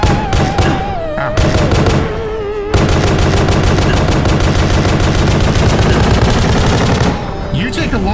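Automatic gunfire in the video game Pony Factory, loud and close, with a short burst followed by a long, dense run of rapid shots, and a voice briefly heard at the start and end.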